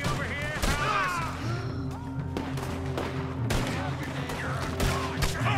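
Gunfire in Red Dead Redemption 2 cracks out as a series of scattered loud shots over a steady in-game background, several sharp reports spread across the moment with no talking.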